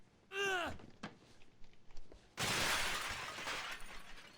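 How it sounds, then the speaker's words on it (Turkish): Antique items are smashed in the video game Sleeping Dogs. A sharp ringing glass-like shatter comes first, then a brief knock, and then a longer, louder crash of breaking debris that scatters and fades. "Sadece 4 antik eşya kalacak şekilde parçala."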